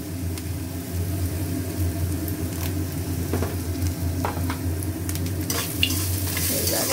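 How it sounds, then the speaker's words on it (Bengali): Spices with turmeric and salt stirred and fried in a pan, a constant loud sizzle with scraping strokes of the spoon and a few sharper clinks toward the end, no voices. "এবার এটাকে ভালো করে কষে ভালো করে মশলাটাকে কষতে হবে"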